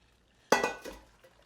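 A short splashy gush of rhubarb juice pouring out, loud at first and then trailing off over about a second.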